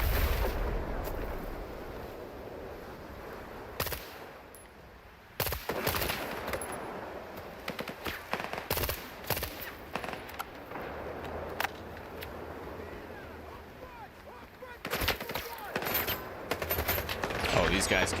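Enemy gunfire in S.T.A.L.K.E.R. 2 crackles in loud, irregular bursts of shots and rapid volleys, some close and sharp, others more distant, with stretches of quieter rumbling in between.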